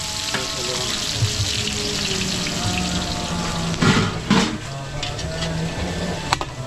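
Garlic and onion frying in a large catering pan, a steady near sizzle with a couple of louder bursts of stirring or splashing partway through, no speech.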